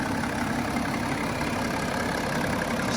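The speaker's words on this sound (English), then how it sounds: "As you can hear, the car's running all beautifully." A BMW 435d Gran Coupe's twin-turbo diesel idles steadily, a constant broadband hum with no talk, heard close under the engine bay.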